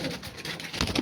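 A pair of Andhra Kalpeti pigeons gives a brief, close coo, one short soft call.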